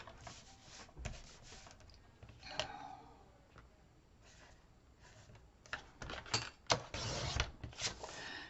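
Paper being cut for a decorating flip box, heard as scattered soft slicing and rubbing strokes with a few sharper clicks, close and fairly quiet, with no voice.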